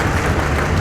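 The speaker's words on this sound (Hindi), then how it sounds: "जोरदार ताली।" Loud applause from an audience at an event where the Indian Home Minister inaugurates a round-the-clock water supply project in Manimajra, Chandigarh, a dense steady burst of clapping that fills the short moment.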